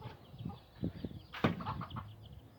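An agitated hen clucks in short bursts close by, with a sudden rush of flapping wings partway through against a quiet outdoor background.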